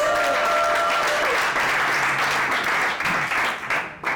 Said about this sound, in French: Est-ce qu'on peut applaudir Kinshasa Community